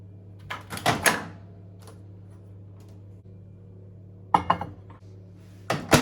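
A microwave door handled in a home kitchen while brownie batter of cocoa powder and a pinch of fleur de sel goes inside: a few close clunks and clicks in two bursts around a steady low hum, with no talking.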